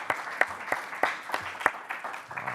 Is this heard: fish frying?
no